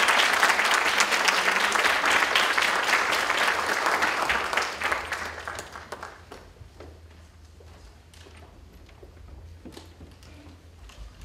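A conference audience applauds to welcome Ambassador Tsuneo Nishida, a full burst of clapping that fades over several seconds into sparse, scattered claps and a few footsteps.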